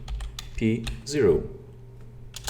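Someone types a command on a computer keyboard at a close distance, tapping out a quick run of keystrokes while a voice talks over part of it.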